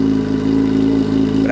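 A Yamaha XJ6 motorcycle engine idles while warming up, a loud, close, steady mechanical drone with a slight rise at the end, and a voice speaks over it.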